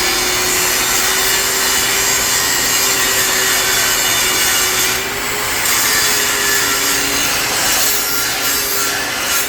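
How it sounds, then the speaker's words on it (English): An angle grinder works the steel frame of a homemade trailer, a loud, steady abrasive whine that runs throughout with small shifts in pressure and no talking. "Let me see if I can grind that a little straighter."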